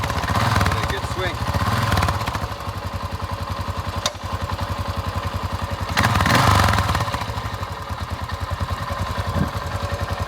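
A 1981 Yamaha TT500 single-cylinder 500cc motorcycle, its top end freshly rebuilt with a new piston, runs after a kick start with a loud, close, rhythmic thumping idle that swells in two brief revs.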